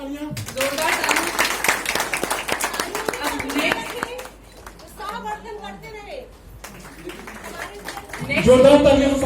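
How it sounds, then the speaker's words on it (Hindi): A crowd at an award ceremony in Jabalpur gives a burst of dense clapping for about four seconds while someone speaks over the top. Quieter talking follows, and a brief louder moment comes near the end. "जोरदार तालियां। जोरदार तालियां।"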